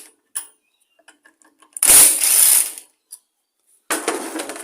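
A ratchet works the two bolts holding an old lawn mower's ignition coil: a few faint clicks, then a loud burst of rapid ratcheting, a pause, and another short burst nearby.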